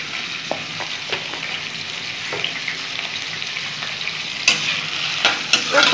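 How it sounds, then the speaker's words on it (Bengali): Sliced potatoes fry with turmeric in a pan, giving a steady close sizzle with scattered scraping stirs and a few louder clatters near the end; no one speaks. "আলুগুলো একটু ভেজে নেবো, হলুদ দিয়ে একটু ভেজে নেবো।"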